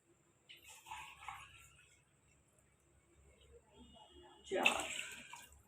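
Water is poured into a pressure cooker holding soaked rice for beef pulao, a brief splashing rush near the end after quieter trickles and faint kitchen sounds, with a voice speaking nearby.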